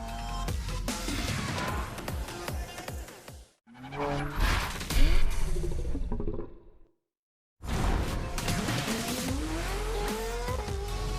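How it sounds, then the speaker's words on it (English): Cars racing and drifting in The Crew Motorfest video game's Japanese car culture event, loud revving engines rising and falling with tire squeals and whooshes, split by a brief pause and a second of silence before the engines return. "Race over asphalt and drift through neon in a journey through Japanese car culture."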